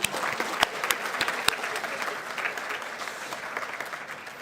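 An audience at the IIT Madras Department of Chemistry convocation applauds its PhD and MSc graduates with a fairly soft, steady patter of many hands and a few sharper claps near the start.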